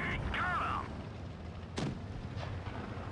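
A tank cannon shot from the mobile game World of Tanks Blitz: one sharp, booming report lands near the middle, over a steady bed of game engine rumble and ambient noise.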